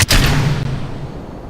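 Rocket launching in Kerbal Space Program, a sudden loud blast at ignition followed by a heavy rumbling roar that slowly fades, close and alone.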